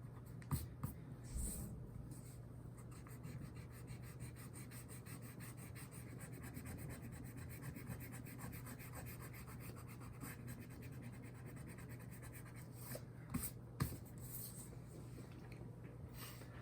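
A pencil retraces light lines on paper in a steady, close scratching and rubbing, continuous soft strokes with a few sharper taps, while a three-point perspective drawing is made.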